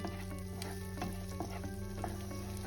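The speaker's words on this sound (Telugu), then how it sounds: "ఇప్పుడు ఈ గార్లిక్ కూడా బటర్లో నీట్గా ఫ్రై అయ్యేలాగా మొత్తం మిక్స్ చేసుకోవాలి" Minced garlic sizzles in melted butter while a spoon stirs it around the pan, a steady close frying hiss with light scraping and no voices.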